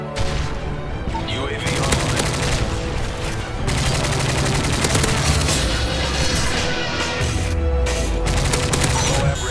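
Dense, continuous automatic gunfire from the Osprey Gunner killstreak in Modern Warfare 3 on PC hammers loudly and without let-up, with heavy booms underneath and players' voices faint in the mix.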